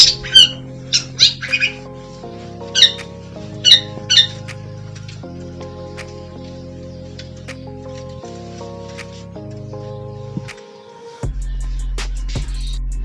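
Long-tailed shrike squawking in several sharp, loud bursts over the first few seconds while being fed crickets, then fading out beneath a steady music bed.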